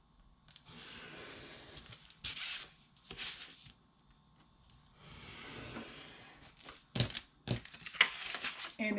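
Paper is traced around and cut out to cover a composition book, giving close, quiet bursts of crinkling, rubbing and snipping separated by brief pauses, with no voices.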